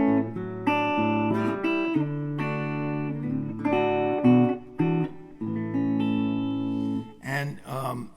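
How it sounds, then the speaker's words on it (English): An electric guitar set up for a clean, undistorted tone plays sustained chords and melodic lines, close and clear, ending in a few brighter picked notes and some sliding noise. "So I played an electric guitar, but like set up for a clean sound like this"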